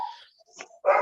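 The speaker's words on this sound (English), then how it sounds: "we can hear dogs barking in the background" A dog barks and whimpers faintly in the background, two short yelps separated by a pause, quiet and a bit muffled as if picked up through a remote meeting microphone.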